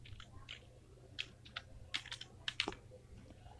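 Typing on a computer keyboard, a sparse run of separate key clicks with uneven gaps and a sharper final keystroke, close and fairly quiet over a low hum.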